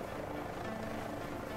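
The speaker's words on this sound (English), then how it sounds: "once you land and you put the helicopter in idle" An H145 helicopter in a video game simulator idles after landing, its rotor and turbine giving a steady, continuous droning hum at moderate level with no talk.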